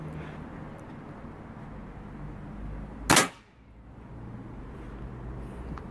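A single sharp competition airgun shot cracks out once midway, loud and close, over a steady low background hum with no talk.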